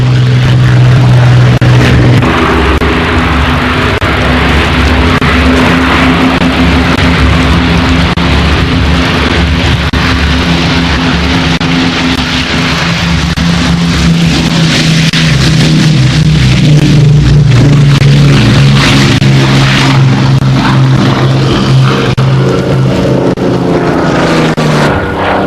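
A Rolls-Royce Merlin aircraft engine roars loudly and continuously, a thick steady drone with shifting pitch that fills the whole stretch without pause.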